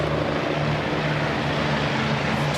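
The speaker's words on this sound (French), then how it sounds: "25 ans pour le A109, qui est un hélicoptère multirôle" Agusta A109 multirole helicopters flying over the Place des Palais during the Belgian National Day parade produce a steady, loud rotor and engine drone that fills the whole stretch without a break.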